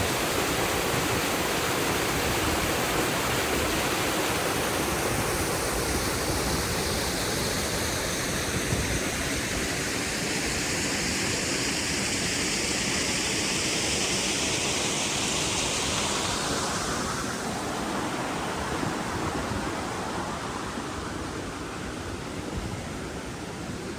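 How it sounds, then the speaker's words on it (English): A waterfall at Newstead Abbey roars in a steady, loud, unbroken rush of white water, close by and alone with no voices, its wash holding constant throughout. "To get a better view of the waterfall from here."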